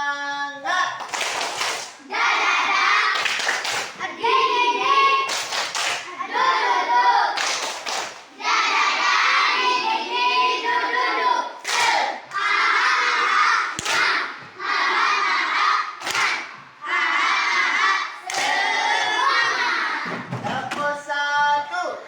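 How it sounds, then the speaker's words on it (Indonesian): A group of schoolchildren claps a rhythmic 'tepuk semangat' pattern in loud, repeated bursts separated by short pauses, with children's shouting voices mixed in. "Sudah bisa tepuk semangat? Sudah. Ya, kita coba. Tepuk semangat."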